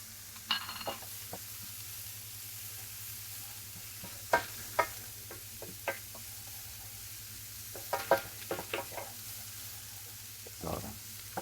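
Onion with garlic just added, frying in a pan for a pork neck caraway glaze, giving a quiet sizzle with a few sharp clicks and stirring knocks under a steady low hum.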